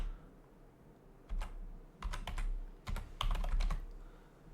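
Quiet, close typing on a computer keyboard at a desk, with short bursts of key clicks separated by brief pauses.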